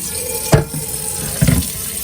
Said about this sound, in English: now I'm gonna get ready to pour the water into the pot